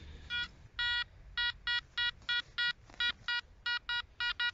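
Short repeated electronic beeps of a metal detector signalling a coin in sand pulse in a fast, slightly uneven rhythm, each a bright buzzy tone, close and fairly quiet over faint background.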